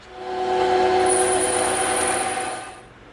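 Bandsaw blade slicing through a block of EVA foam, cutting a taper for a prop rifle; a steady, loud whining hum that swells in and holds for about three seconds before tapering off, with no talking.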